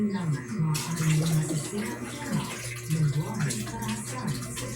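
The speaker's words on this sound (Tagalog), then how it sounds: "dito guys is tinatapon ko yung water sa may balde" Water is poured out of a container into a bucket in a steady, splashing stream lasting several seconds, with a voice audible over the sound.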